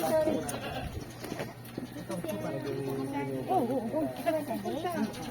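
Goats bleating on a small farm during goat milking and feeding, with wavering calls close by and people talking over them.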